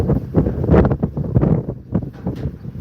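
Strong wind buffets the microphone outdoors during storm chasing, making uneven, loud low rumbles and gusty bursts throughout.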